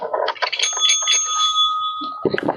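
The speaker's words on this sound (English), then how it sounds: "Let me ring the bell for a smile." A bicycle-style bell rings with bright, sustained metallic tones, up close, layered over some busy background noise.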